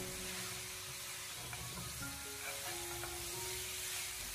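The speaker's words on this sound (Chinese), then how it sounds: "将猪蹄不停的翻炒1小会" Pig trotters stir-fry in a wok with a steady, close sizzle and hiss, joined by scattered scraping and clinking from the spatula as the pieces are turned.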